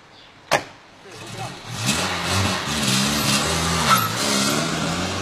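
An FSO Polonez 1500 car: a door slam, then the engine starting and revving as the car pulls away, mid-pitched engine note rising through gear changes, heard from inside.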